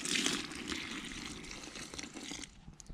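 Roughly a litre of water is poured from a container into a fishing groundbait mix for bleak, a faint steady splashing pour that thins out toward the end.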